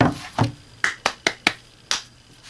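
Seven sharp hand claps spaced unevenly over a couple of seconds, close and fairly quiet, each a crisp separate crack in a quiet room with no talk.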